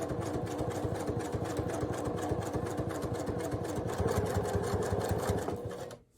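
A sewing machine stitches steadily through a fabric pouch, running fast with a continuous rapid mechanical rhythm that is loud and close, then stops abruptly near the end.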